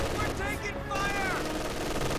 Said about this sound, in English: there's a machine gun covering them right here